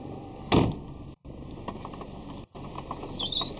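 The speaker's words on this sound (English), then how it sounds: "And we shut the door right now." The door of a 1994 Mazda 323 car thumps shut once near the start, followed by quiet interior cabin ambience with faint mechanical clicks.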